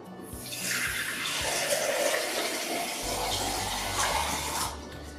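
Water pours and swirls steadily over crushed rock in a container as a mineral sample is rinsed, a broad close wash of splashing lasting the whole stretch with a deeper gurgle toward the end.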